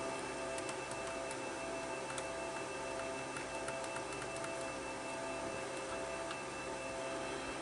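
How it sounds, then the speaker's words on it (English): A small motor whirs steadily inside an old 1990s car DVD player as it draws in a disc, a close, even mechanical hum with faint ticks and no speech. "There's a little motor that sucks it in."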